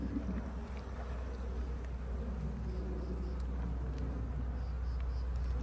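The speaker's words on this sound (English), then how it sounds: "A lot of drones, a lot of worker bees, busy bees." Honey bees buzzing around an open backyard beehive while the frames are lifted out, a faint, steady, low hum that goes on throughout with no voices.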